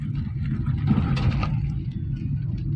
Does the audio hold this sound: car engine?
yes